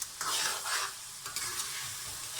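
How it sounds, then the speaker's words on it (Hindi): Minced meat with yogurt and green chilies fries in a pan, a continuous close sizzle broken by brief scraping stirs, with no talking. "दही डालकर हम इसको बहुत अच्छी तरीके से भून लेंगे।"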